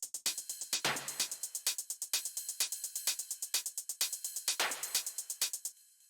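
A fast techno drum loop through an EQ Eight equalizer, thin, bright, clicky hits in a steady driving rhythm, low end stripped out, hissy cymbals washing through.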